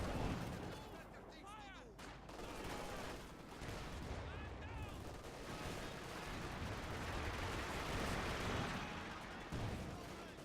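Gunfire and artillery in a Company of Heroes match: dense overlapping shots and booms roll continuously through the mix, with a tank gun firing on a T-34-76 among the battle noise, under a commentator's voice.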